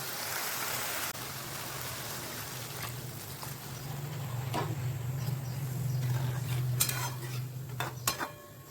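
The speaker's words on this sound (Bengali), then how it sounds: "এখন একবার জাস্ট নেড়ে দিচ্ছি" Bottle gourd curry is stirred in a pan, with a soft bubbling simmer and scraping spoon strokes that rise and fade over several seconds.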